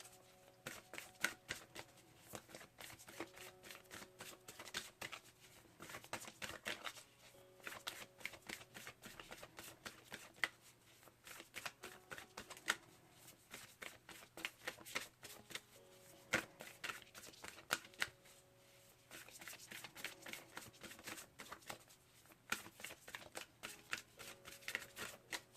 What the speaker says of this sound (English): Let's pull a card here from March 21st to the 31st.